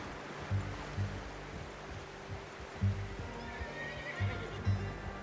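A horse in Red Dead Redemption 2 whinnies and snorts in several short bursts, with occasional hoof clops, close and fairly quiet against a soft ambient background.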